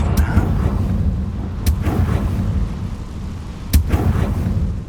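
A Confringo fire spell blast in Hogwarts Legacy goes off as sharp cracks against a rumbling, explosive game soundscape, with two distinct loud bursts and a dense low roar underneath throughout.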